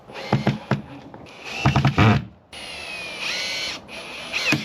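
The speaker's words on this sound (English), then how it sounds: "We're going to screw this front piece in now." A power drill drives screws into a front piece in short, loud whirring bursts, then runs in a longer, steadier stretch with brief pauses between runs.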